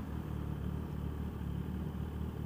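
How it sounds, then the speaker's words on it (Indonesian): Steady, loud engine drone of a Kawasaki ZX-10R Anniversary Edition sport motorcycle fitted with an Austin Racing aftermarket exhaust, a continuous deep rumble while riding, heard alone. "kali ini gue dapet knalpot Austin Racing ya kan, jadi suaranya lumayan pak"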